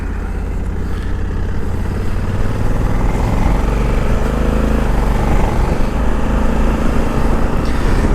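A Honda Africa Twin Adventure Sport DCT, a big automatic motorcycle, rides along on a windy day, producing a steady engine drone mixed with heavy wind rush at constant loudness throughout.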